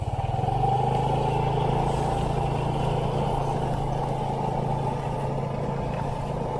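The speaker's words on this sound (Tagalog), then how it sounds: "Sinundo kami ng tricycle" A motorized tricycle engine runs loudly and steadily from start to finish, a constant close droning rumble with light mechanical clatter and no talking.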